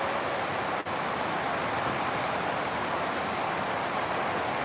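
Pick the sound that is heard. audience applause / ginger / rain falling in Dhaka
rain falling in Dhaka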